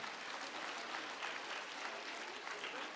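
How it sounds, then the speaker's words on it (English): An audience in a school hall applauds at an awards ceremony, a steady wash of many hands clapping together at moderate distance, sustained evenly throughout. "Audience, please give them a huge round of applause."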